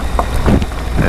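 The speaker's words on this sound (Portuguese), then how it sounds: "Debaixo de chuva." Steady rain pours down outdoors during a wet ride back toward town, a close, continuous hiss with a low rumble underneath.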